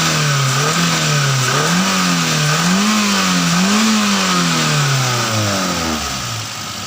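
A Daihatsu Xenia 1.3 engine with a stumbling mid-range runs during an RPM check, its revs rising and falling in slow waves before easing down, loud and close with a steady hum throughout.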